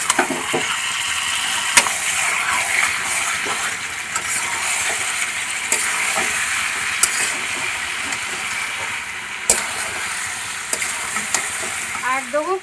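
Chicken pieces cook in a pan with fried special spice mix, ground coriander leaves and beaten yogurt, a loud continuous sizzle with repeated stirring scrapes and clinks of a spoon, close by, no voices.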